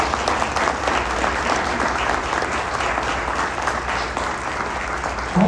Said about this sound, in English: please give a round of applause for our candidates